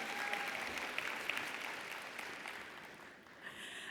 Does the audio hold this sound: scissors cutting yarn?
no